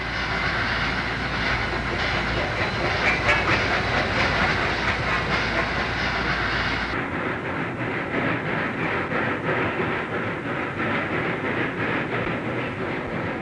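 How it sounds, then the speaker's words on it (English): A Southern Pacific cab forward steam train rumbles and chugs steadily uphill into the Sierra with a constant hiss of driving rain and steam, loud and continuous, the sound dulling partway through. "Train 28, the Overland, heads east into the Sierra through driving rain"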